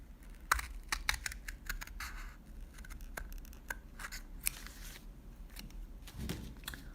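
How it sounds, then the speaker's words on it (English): Scissors snip paper along drawn lines for a pop-up card, a close run of quick, crisp cuts with brief pauses, fairly loud and steady, no voices. "I'm just going to carefully cut right along those lines that I drew"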